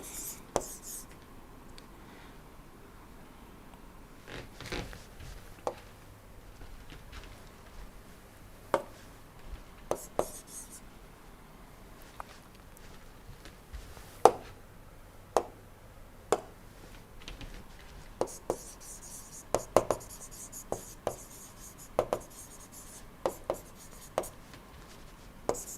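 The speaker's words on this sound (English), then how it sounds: "so I am writing" A pen scratches on paper during an engineering lecture on impulse steam turbines, with quiet strokes and sharp taps recurring irregularly over a faint room background.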